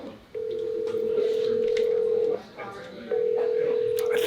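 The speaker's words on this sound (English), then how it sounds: "so I'm gonna call Dennis, because me and him do crazy stuff" A telephone call being placed, with a steady dial tone or ringback tone sounding twice in long stretches, separated by a short gap, clear and close on the line.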